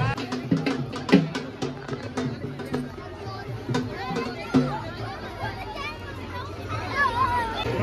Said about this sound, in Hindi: देखो कितनी ज़्यादा भीड़ है।